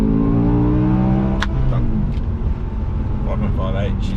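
BMW M6 with a V10 engine accelerating hard from a standstill in a 0-100 km/h run, a loud, close engine note climbing through the revs and shifting gear, with a brief spoken word over it.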